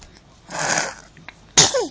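A single close, loud sneeze bursts out, preceded by a softer breathy intake, with a short voice following right after.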